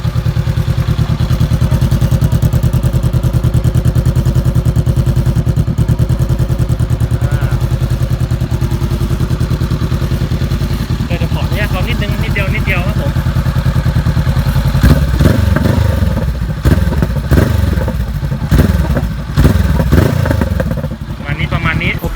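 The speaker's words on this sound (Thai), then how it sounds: "ไหนๆมาแล้วฟังเสียงท่อนิดนึงได้ไหมพี่" A Honda CBR500R motorcycle engine idles steadily, then revs in several short throttle blips near the microphone, with people talking over the exhaust.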